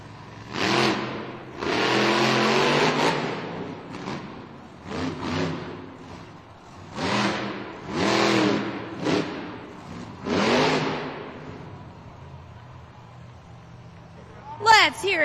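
The Grave Digger monster truck engine revs in repeated loud roaring bursts, rising and falling, with short gaps between each throttle blast, at an indoor Monster Jam arena event.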